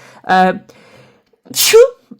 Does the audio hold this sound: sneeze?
yes